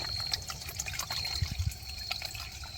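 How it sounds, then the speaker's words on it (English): Water trickles and drips steadily through a backpacking water filter into a container, a light splashing flow with a few soft thuds, close by and without voices. "I still filter it just to be on the safe side."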